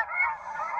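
A single short snow goose honk, nasal and faint, heard alone with no other sound, during a spring hunt in Alberta.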